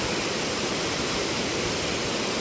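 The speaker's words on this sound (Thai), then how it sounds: "นี่น้ำตกตาด" Tat Waterfall in Thailand roars as a steady, dense wash of rushing water, loud and close and continuous for the whole stretch, with no voices over it.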